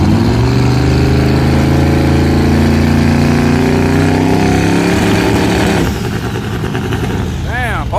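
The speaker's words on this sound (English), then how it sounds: "both of them then jumped out the goddamn lights with their trans brake" Drag race cars at a grudge race launching off the line with trans brakes, loud sustained engine roar rising in pitch, then a shift as the cars pull away.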